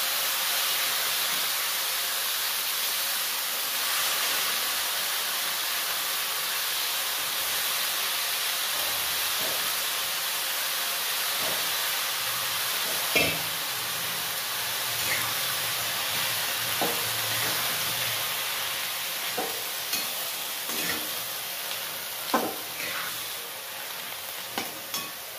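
Washed safflower greens cook in a pan with a continuous soft sizzle and hiss, fairly quiet, with occasional stirring clatter and small scrapes growing more frequent toward the end; no talking.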